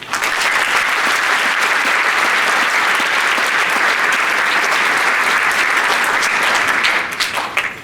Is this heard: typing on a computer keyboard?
no